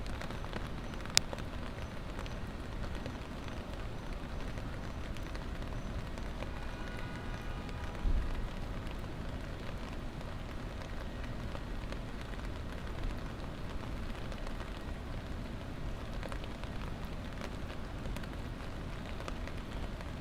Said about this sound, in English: It is a very rainy night.